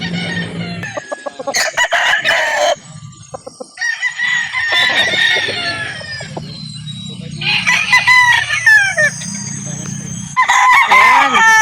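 Roosters and chickens at a poultry yard in Calauan, Laguna, loud close crowing calls repeating several times with clucking in between, alone without talk.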